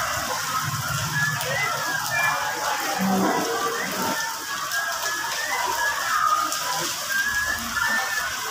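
Heavy morning rain falls steadily as a broad, constant hiss and patter from start to finish, with faint voices and other background activity mixed in underneath.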